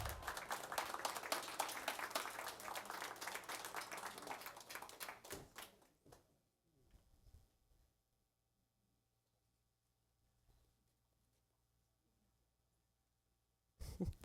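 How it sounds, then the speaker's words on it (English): Applause from an audience at an evening Board of Education meeting during student recognitions, a dense steady patter of clapping that lasts about six seconds, then thins out and fades to near silence, with a brief loud burst at the very end. "Let's give a round of applause to our students, advisors, parents, and Ms. Azevedo for everything that they do."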